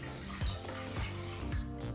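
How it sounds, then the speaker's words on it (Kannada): A steady stream of water pours into a cooking vessel, a soft continuous splashing gurgle close by with a few small pulses, no voices. "ಈಗ ಒಂದು ಪಾತ್ರೆಗೆ 1/4 ಲೀಟ್ರಷ್ಟು ನೀರನ್ನು ಸೇರಿಸ್ಕೊಳ್ತಾ ಇದ್ದೀವಿ"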